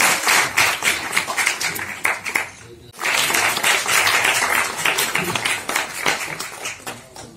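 Audience applause at the Stop Crime Organization's 15th-anniversary award ceremony in 2022, a sustained wash of many hands clapping. It dips briefly near three seconds, then swells again at full strength and tapers toward the end.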